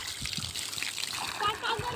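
Water pours from a solar-powered pump, splashing and trickling continuously at close range while people talk over it.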